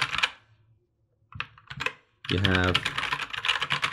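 Key presses on a GK61 RGB mechanical gaming keyboard with crystal clear keycaps, a few scattered clicks followed by a voice speaking over continued tapping.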